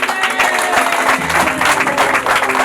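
Wedding guests applaud and cheer at a Congolese wedding celebration, a dense, steady burst of clapping with crowd voices mixed in, fairly loud and close throughout.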